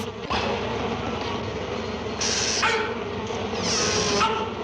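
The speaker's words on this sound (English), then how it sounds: "If you open a quart of Acme bumblebees, what do they sound like?" A steady, dense cartoon sound effect of buzzing bumblebees swarming, with brighter hissing surges midway and near the end, loud and continuous.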